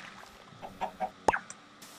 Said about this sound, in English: Lots of chickens still over here.